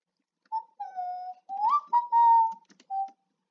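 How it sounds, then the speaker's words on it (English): A person whistles a short wavering tune in a quiet room: several clear sustained notes with small slides between them, broken by brief pauses, close and moderately loud with nothing else behind. "Not really good at whistling."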